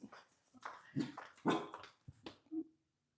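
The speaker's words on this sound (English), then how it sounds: "My dog will go crazy when she hears the dog or if she hears somebody coming." A dog at home barks and yips excitedly toward the door in a quick run of sharp, close, fairly loud bursts that stop abruptly.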